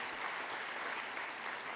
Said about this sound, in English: please give them a round of applause for beautifying our city in many ways